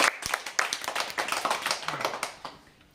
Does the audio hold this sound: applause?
yes